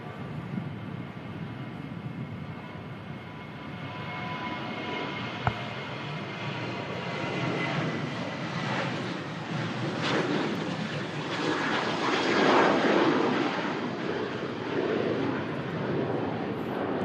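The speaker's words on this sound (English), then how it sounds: "let this TUI, this TUI climb up. On its way to Almeria." A TUI airliner bound for Almeria climbs out of Manchester Airport, its jet roar swelling steadily and peaking mid-way before holding as a broad, continuous rumble at moderate distance, with no voices over it.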